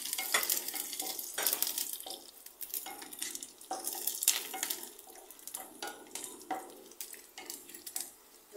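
Chilli, onion and grated coconut frying in oil with curry leaves: a busy, hissing sizzle near at hand, with irregular scraping stirs and spatters, and no speech.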